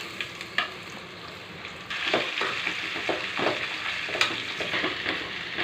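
Potatoes dropped into hot oil with garlic already fried golden, a steady sizzle that jumps louder and denser about halfway through and keeps crackling close up, with a few sharp spits and no voices.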